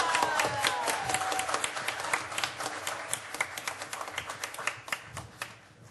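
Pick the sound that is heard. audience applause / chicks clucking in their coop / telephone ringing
audience applause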